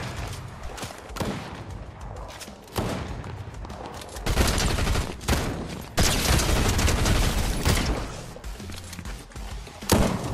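Rapid gunfire in a Fortnite trios match, with repeated bursts of shots and heavy thuds one after another, loud and dense throughout.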